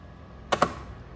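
A Japanese rice cooker gives two short, close electronic beeps in quick succession as its cook button is pressed, over a quiet room background.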